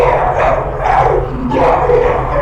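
Several loud dog-like barks and yelps from video game creatures in Amenti, in quick succession over a low steady hum, close and harsh.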